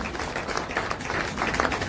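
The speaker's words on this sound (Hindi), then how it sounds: "एक बार जोरदार तालियां आप सभी के लिए हों।" Short burst of audience applause at an award ceremony honouring soldiers and Border Security Force personnel, a busy, fairly close patter of many hands with no pause.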